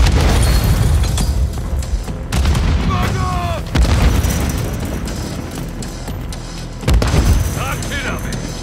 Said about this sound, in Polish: Rzucam granatem.